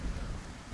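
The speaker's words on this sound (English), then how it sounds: "we got ourselves a thunderstorm at the KSC" In Kerbal Space Program, a thunderstorm with rain sets in over the space center, making a soft, low rumbling wash. It is brief and faint, and nothing else is heard.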